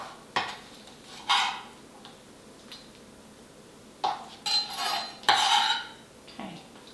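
Raw onion pieces dropped into a pan, a few separate scraping, clattering bursts of pieces and utensil against metal, with quiet gaps between them and no sizzle yet.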